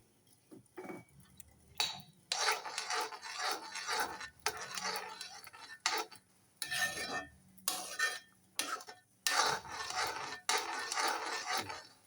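Thick halwa with black raisins and cashews is stirred in a pan, producing intermittent bursts of spatula scraping and pot clatter separated by brief quiet gaps, close and moderately soft.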